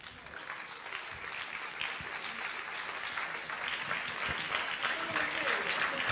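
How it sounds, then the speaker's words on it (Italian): Audience applause for Dario Zigiotto at a music review event, steady mid-distance clapping from a crowd that continues throughout with some voices mixed in. "l'applauso è un po' moscio per Dario Zigiotto"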